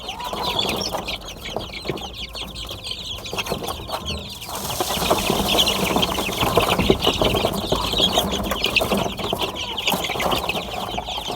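Startled chickens cluck and squawk in a farm coop, a busy, continuous flock chatter that swells louder partway through, with close agitated calls overlapping one another.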